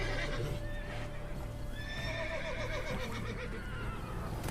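A horse whinnies with a rising, wavering neigh over steady clip-clop hooves and low background rumble in the video game The Witcher 3: Blood and Wine.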